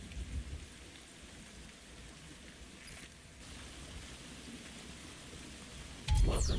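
Steady rainfall in the video game Republique, a moonlit, rain-sodden setting, with constant dense patter throughout and a louder low rumble swelling in at the end.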